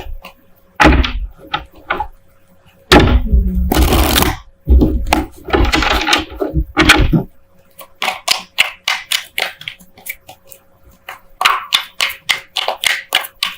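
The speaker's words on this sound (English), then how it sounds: "while I'm shuffling" Tarot cards are shuffled by hand in bursts of crisp riffling and slapping, dense at first, then after a pause come quicker rhythmic flicks and taps, close and fairly loud.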